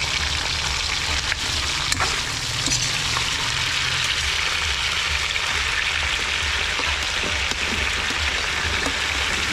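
Chicken sizzles steadily in hot cooking oil, a dense, continuous crackle and hiss that stays close and fairly loud throughout, with a few sharper pops rising out of it and no one speaking.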